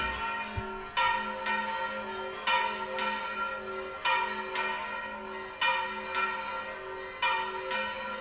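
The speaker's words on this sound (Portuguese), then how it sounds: "Para você tocar o sino." A church bell in a tower rings in a steady repeated pattern, struck about every second with rich ringing tones that overlap and sustain, fairly close and with no voices.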